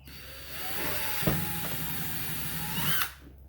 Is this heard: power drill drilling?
yes